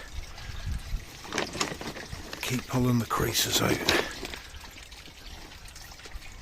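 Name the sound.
water running into a new garden pond liner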